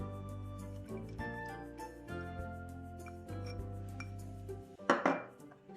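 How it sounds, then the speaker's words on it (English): Dry yellow split Bengal gram (chana dal) is tipped into a cooking dish, giving a short, crisp rattling clatter near the end after quiet kitchen sounds. "I'm going to be adding the chana dal first"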